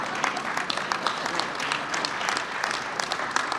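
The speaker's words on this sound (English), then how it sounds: "You're supposed to applaud." Audience applause at an O'Hare Terminal 3 funding event, a short burst of dense clapping from a crowd, steady and moderately loud, lasting a few seconds with no voices over it.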